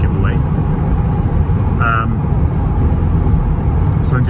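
Steady low road rumble and engine drone inside a moving car, continuous and fairly loud, with a few faint chirps and clicks, while someone talks over it.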